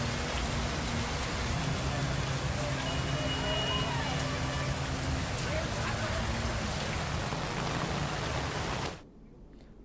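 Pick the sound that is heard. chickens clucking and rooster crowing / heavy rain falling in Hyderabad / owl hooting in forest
heavy rain falling in Hyderabad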